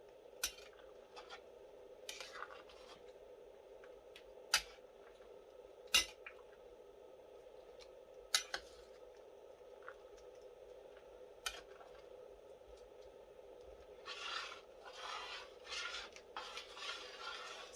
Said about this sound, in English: Just going to give it a nice stir here.